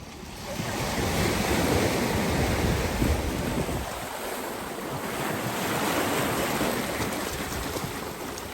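Ocean surf at Bodega Bay washes and rolls in steadily, a broad continuous roar with wind buffeting the microphone and no talking.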